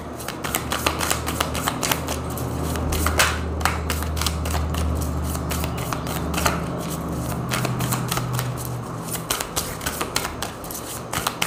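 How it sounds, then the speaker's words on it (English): Tarot cards shuffled steadily by hand for a long stretch, a dense flutter of riffling and sliding cards with sharp snaps, close and continuous, with faint background hum. "All right, lots of shuffling."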